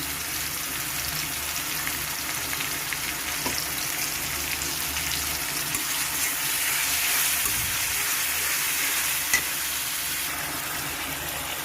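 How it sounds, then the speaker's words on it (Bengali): Goose meat frying with spices in a pan, a steady loud sizzle filling the whole stretch with occasional scraping as it is stirred. "ভালো নাড়াছাড়া করে নেবো তারপরে হলুদের গুঁড়ো মরিচের গুঁড়ো দেবো"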